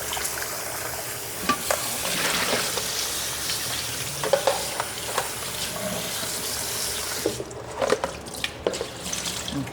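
Bitter gourd rinsed in cold water from the tap after a quick blanch: a steady rushing wash of water with light clatters and splashes as the pieces are handled, close by, with no talk.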